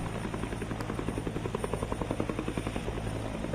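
A helicopter carrying Filipino military personnel, with a loud, close, rhythmic thudding of rotor blades over a steady engine drone, pulsing evenly throughout.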